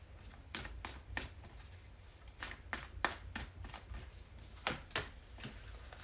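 Oracle cards are shuffled by hand in a quiet room: a series of short, crisp riffling bursts at an uneven pace, close and fairly soft, with no talking.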